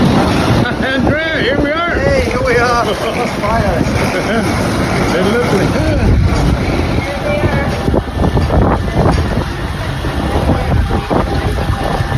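Strong wind buffeting the microphone with rumbling gusts, mixed with voices talking loudly over it, outdoors near the sea on Lipari in the Aeolian Islands, Sicily.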